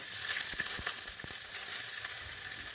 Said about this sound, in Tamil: இப்போ கடுகு, கருவேப்பிலை, வெங்காயம் சேர்த்து நல்லா வதக்கி விட்டுக்குங்க